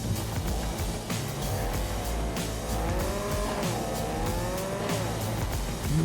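A car in the Cyberpunk 2077 video game drives off with a continuous engine roar that rises and falls in pitch as it accelerates, joined by tire squeal, loud and close throughout.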